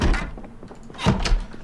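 A bathroom door thudding as it opens or closes in the survival game Project Zomboid, two dull knocking impacts a second apart against a faint background hum.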